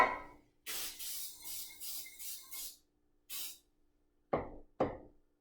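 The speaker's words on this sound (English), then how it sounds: "So I just use a baking spray, and mainly you want to spray the top." Several short hissing bursts of baking spray into a muffin tin, pulsing in a quick rhythm then one more burst, followed by two light knocks.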